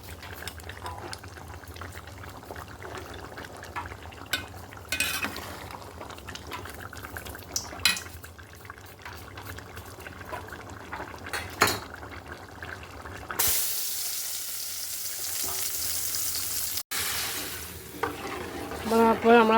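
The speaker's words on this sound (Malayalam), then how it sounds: "നമ്മുടെ ചിക്കൻ കറി അങ്ങനെ റെഡി ആയിക്കൊണ്ടിരിക്കുകയാണ്" Chicken curry simmering and being stirred in a pot, with soft bubbling and scraping stir strokes, then a loud sustained hiss of frying near the end; no talk.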